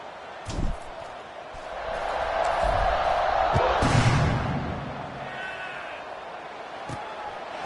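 Stadium crowd roar in a college football video game, swelling in the middle of the stretch around a kickoff, with a few sharp thumps and a commentator's voice over the steady din.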